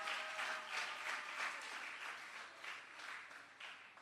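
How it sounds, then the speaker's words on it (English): A crowd at a school anti-violence ministry event claps for participating schools, a continuous, fairly distant round of applause with a soft, even texture. "I'd like for us to give all the schools that participated in the Just Medz It Jingle campaign a really, really loud round of applause this morning"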